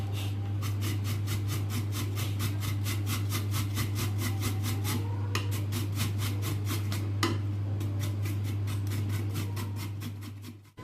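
Carrots are grated by hand in quick, steady rasping strokes, each scrape evenly spaced, over a constant low electrical hum, close and clear.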